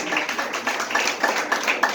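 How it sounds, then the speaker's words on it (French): An audience claps warmly for a first-grade (CP) teacher at a school ceremony, with dense, steady applause that swells in small surges and fills the whole moment. "On l'applaudit chaudement."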